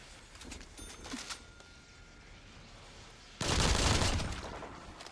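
AA-12 shotgun in Black Ops 3 Zombies on the Origins map. A few faint game clicks come first, then a sudden, loud burst of rapid automatic blasts that trails off.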